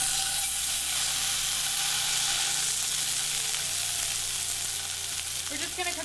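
A fatty A5 Japanese Wagyu ribeye steak sears in a dry pan with a loud, continuous close-up sizzle and crackle, a faint hum underneath and a brief scrape near the end.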